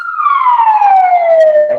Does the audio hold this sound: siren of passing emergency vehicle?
yes